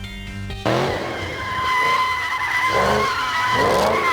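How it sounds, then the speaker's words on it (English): A Pontiac Firebird Trans Am 455 drifts with its tires squealing loudly and continuously, the big engine roaring and revving underneath, close and intense. "He's drifting it, boy. He's whipping it."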